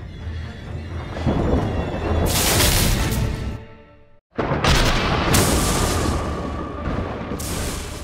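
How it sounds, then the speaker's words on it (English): Thunder booms and rumbles over a city during a lightning storm, loud and sustained, with a sudden cut to silence partway before the roaring crashes resume. "There's lightning all over the city."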